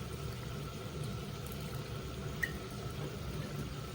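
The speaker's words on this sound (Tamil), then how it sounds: "அப்போ இது கொஞ்சம் கொதிக்கட்டும்." Fried chicken wings in soy sauce simmer in a pan, a soft continuous bubbling and sizzle with one brief faint clink, quiet and steady with no talking.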